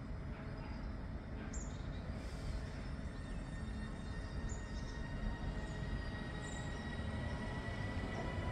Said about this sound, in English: Blackpool North carriage sidings, TMD to Preston, empty carriage stock